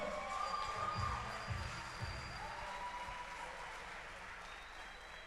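A church congregation applauds during a celebration service, a soft broad wash of clapping that is strongest at the start and slowly fades, heard from some distance with low rumbles underneath.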